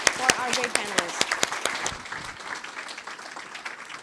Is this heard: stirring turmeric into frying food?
no